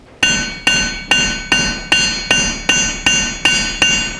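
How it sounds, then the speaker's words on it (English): A hammer strikes a metal piece being bent into a curve, ringing out in ten evenly spaced, loud, bright blows, each with a metallic ring that decays before the next. "every time I hit it with a hammer, it begins to curve."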